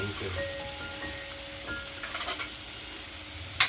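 Chopped onion and chili sizzling in oil in a pan, a steady close crackling fry with light stirring and a sharper clink at the very end.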